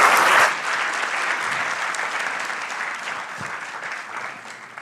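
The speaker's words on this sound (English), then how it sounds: "Then in a final round of applause" An audience applauds after a keynote speech, with dense, steady clapping that swells loud at the start, then settles into a continuous, moderately loud patter that fades slightly toward the end.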